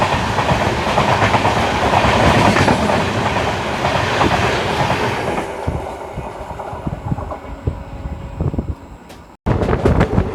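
The Kolhapur–Nagpur Express rolling on Indian rails, a loud rumbling roar with wind buffeting that eases to rhythmic clickety-clack over the joints, then a sharp cut and a burst of noise again.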